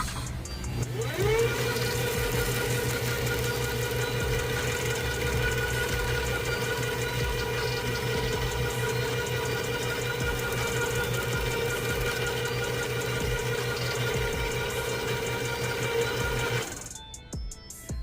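A fishing reel spools on 60 lb 16-strand braided line with a steady mechanical whir and a faint hum that holds evenly for most of the stretch before cutting off near the end.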